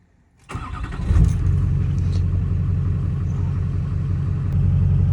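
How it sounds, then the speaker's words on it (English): A 2006 Duramax diesel truck engine cold starts after a brief crank, then settles into a loud, steady low rumbling idle that continues unchanged, close by and with no talking. "So let's give you guys a cold start."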